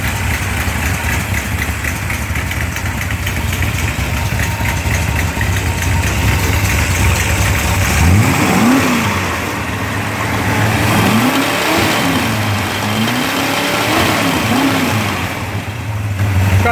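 A Mopar 360 crate engine runs on a test stand, idling with a loud, lumpy rumble for several seconds before revving up and down in repeated swells, close and unbroken.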